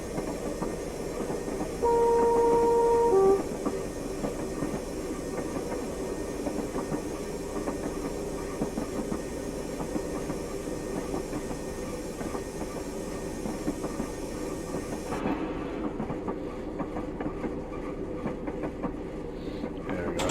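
A Class 121 diesel railcar running in Train Simulator Classic between Aberdeen and Peterhead: a steady engine drone and rail rumble that stays constant and moderately loud, with a brief tone early on.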